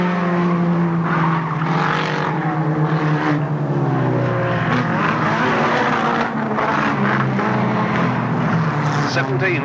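A race car at Alwalton Raceway in 1983, coming out of the pit turn with a problem, its loud engine note dropping steadily as it slows on the track while a commentator talks over it throughout.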